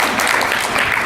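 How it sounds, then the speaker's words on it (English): Short burst of audience clapping during a conference talk by Cheezburger's CEO, with dense, even applause from a crowd throughout. "I think that's the first time anybody's clapped for that."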